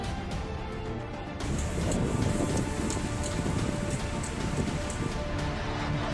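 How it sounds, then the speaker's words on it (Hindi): Heavy rain hammers down steadily during Cyclone Biporjoy, growing louder after a second or so, a dense continuous downpour with gusty wind noise mixed in. "तेज हवाओं के साथ जमकर हुई बारिश ने तबाही मचा दी।"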